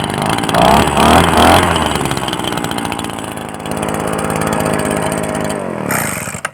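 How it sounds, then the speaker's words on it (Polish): A leaf blower's small two-stroke engine runs loudly and steadily close by, its pitch rising and falling slightly before cutting off at the end. "dźwięk silnika"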